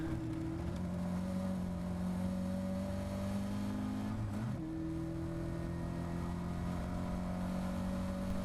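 A Caterham race car engine drones steadily from inside the cockpit during a track race, holding a high pitch with a brief dip and recovery as it shifts or brakes midway.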